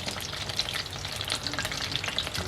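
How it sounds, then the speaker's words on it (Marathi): Soya chunks fry in hot oil in a kadai over a medium flame, giving a continuous close sizzle with crackling pops and occasional stirring. No one speaks over the steady frying. "तेलामध्ये एक एक करून आपण हे सोया चंक्स टाकून घेऊयात"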